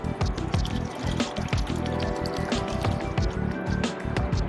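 Hand sanitizer ingredients poured into a container, with a steady liquid sloshing and glugging plus small drips and squishy splashes, close and continuous.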